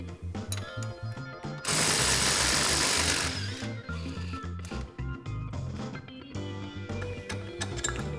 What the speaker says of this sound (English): Now remove the top ball joint pinch bolt.